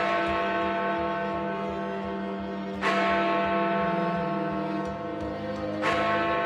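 Big Ben's great bell at the Palace of Westminster, struck by its hammer, rings with two sharp strikes about three seconds apart, each followed by a long, humming, resonant decay.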